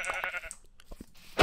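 Minecraft sheep bleat in a couple of short wavering calls. Soft thumps follow, then a sharp hit at the end of the game sound.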